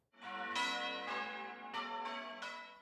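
Church bells rung by bell ringers, a full peal of several bells striking in overlapping succession, loud and ringing out with long decaying tones, with no voices.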